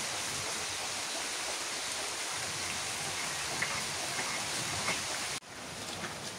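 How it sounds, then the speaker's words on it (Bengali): Rain pours steadily during a rainy day, a dense even wash of noise that stays constant until a brief cut near the end and then resumes. "বৃষ্টি নামছে"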